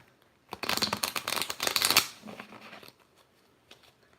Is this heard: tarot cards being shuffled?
yes